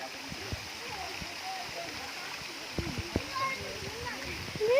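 Water at Coban Canggu waterfall in Mojokerto makes a continuous splashing rush, heard under nearby voices of adults and someone talking throughout.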